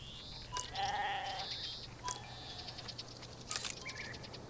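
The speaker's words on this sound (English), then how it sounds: "Guara sheep." Sheep bleating among the animals of the wildlife game Alba: A Wildlife Adventure, two or three wavering bleats at moderate distance over a steady low ambient hum, with faint bird chirps around them.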